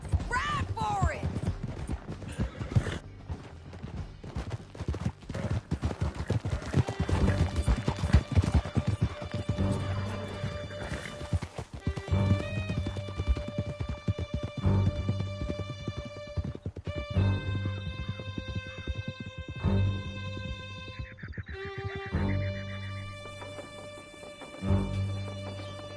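Horses gallop hard through a canyon in Red Dead Redemption 2, steady close hoofbeats pounding under orchestral music, with shouted voices, a whinny and scattered gunfire in the mix.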